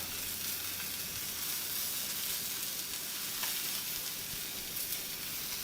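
Onions sizzle in a hot pan while making a potato-crusted quiche, a dense continuous hiss and crackle, close and even throughout with no talking.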